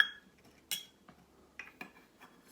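Dry salt scooped from a container with a half-cup measuring cup while making no-cook play dough, giving faint, brief scraping and clinking sounds in a few separate bursts, close by with no talking.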